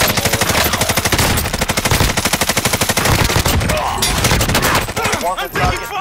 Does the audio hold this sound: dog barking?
no